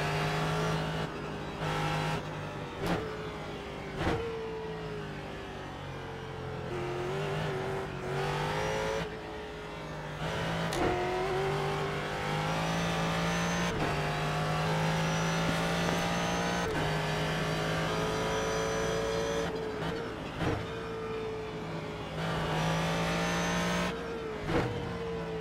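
Ford GT3 race car lapping Barber Motorsports Park in iRacing, engine revving up and down through repeated gear changes and corners, with occasional tire squeal. The game audio plays at a moderate level with no voice over it.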